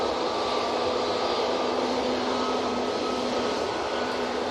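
A passenger airplane touches down at Manchester Airport, a steady broad roar with a low engine hum holding constant throughout, moderately distant and with no voices.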